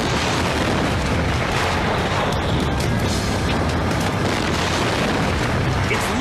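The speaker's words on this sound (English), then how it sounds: "Moments later, a second tank explodes." A second flammable liquid storage tank, struck by lightning, explodes with a sustained, heavy roaring blast that fills the whole stretch at full loudness without letup, as a distant fire rages.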